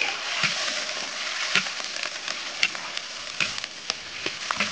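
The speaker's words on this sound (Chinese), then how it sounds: "自己的老公鸡不焯水，直接上锅炒" Home-raised rooster stir-fried in an iron wok without blanching, a steady close sizzle with scattered sharp ticks and scrapes of stirring throughout.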